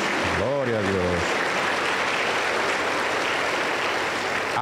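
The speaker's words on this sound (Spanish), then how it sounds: "Y un aplauso para siempre." Congregation applauding during an evangelical church service in Junín, Peru, a loud continuous wash of clapping that follows a brief spoken voice at the start.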